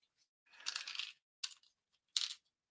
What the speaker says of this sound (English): I'm reaching for the Tums. I'm eating a Tums.